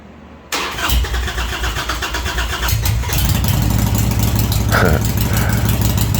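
A Harley-Davidson Sportster motorcycle engine, fresh from a front cylinder head gasket and pushrod tube seal repair, cranks and fires after a second of quiet, then settles into a loud, steady near idle with a deep low rumble.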